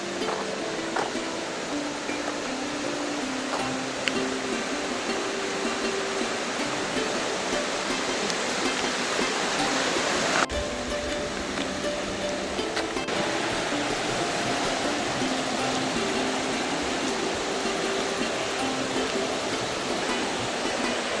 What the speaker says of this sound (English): This river is flowing besides this temple.